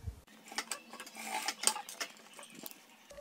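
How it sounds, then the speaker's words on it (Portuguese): A sewing machine running a short line of stitches on fabric, with brief, close, fast mechanical ticking and rattling over about three seconds. "passa uma costurinha aqui, bem próximo aqui"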